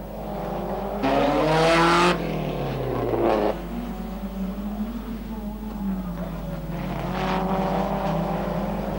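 A 1957 Jaguar Cooper race car pulls away, its engine rising in pitch and loud for a moment, then fading into a continuing drone of racing engines, with a voice talking over it.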